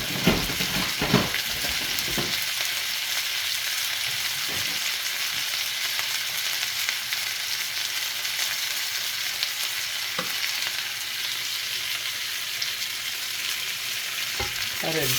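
Pork seasoned with granulated garlic browns in a black frying pan, giving a loud, continuous close sizzle with a few faint clicks and pops throughout.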